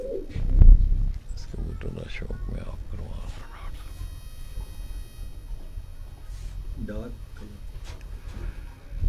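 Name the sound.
Sialkoti black-faced pigeons cooing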